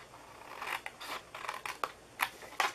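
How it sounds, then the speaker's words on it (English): Large scissors snip through a big cardboard box in a series of crisp, crunchy cuts, close up and irregular, with brief pauses between strokes. "I like my big scissors better for a big box like this"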